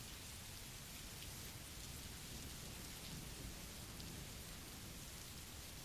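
Steady rain falls without a break, a dense even hiss of drops hitting surfaces, heard alone at low level as calming background.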